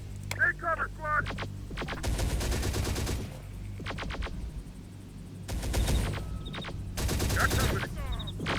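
Bursts of gunfire from the Terminator Dark Fate Defiance video game crackle in uneven volleys, with shouted voices and radio-style chatter between and over the shots.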